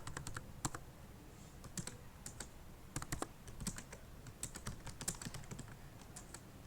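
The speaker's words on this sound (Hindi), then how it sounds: "अब इस नई फाइल में मैं कुछ टाइप कर देता हूँ।" A computer keyboard clatters with quick, irregular keystrokes as text is typed into a word processor, the taps close but fairly quiet and alone without speech.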